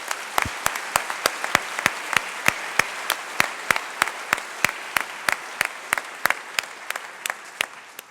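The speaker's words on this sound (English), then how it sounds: "let's give them a round of applause." Audience applause after a scientific poster session on star formation, heard as a steady wash of many hands with sharp individual claps standing out in a regular rhythm, sustained throughout and slowly fading.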